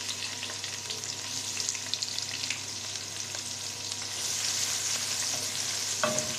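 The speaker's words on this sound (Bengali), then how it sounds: "পেঁয়াজ কুচি আমি লাল লাল করে ভেজে নেব।" Chopped onion frying in oil after whole spices, a steady broadband sizzle that grows louder partway through, with a few faint utensil clicks and no voices.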